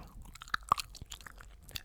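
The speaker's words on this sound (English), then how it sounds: "tonight I decided to do some gum chewing whilst we do tonight's card magic" Gum chewing during a close-up ASMR card magic session gives soft, wet, irregular smacks and clicks at close range, quiet and without speech.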